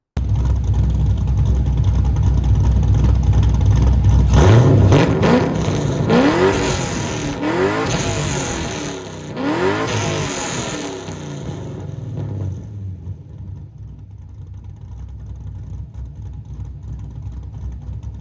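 A loud Pontiac GTO exhaust idles with a deep rumble, then revs sharply several times in quick bursts before settling back to a low idle.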